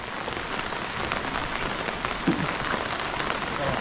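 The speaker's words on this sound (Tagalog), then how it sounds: "Kung ganito lang alalay na ulan, pwedeng mag-asintada." Light, steady rain falling during outdoor plastering work, a dense even patter on surfaces filling the whole stretch with no talk.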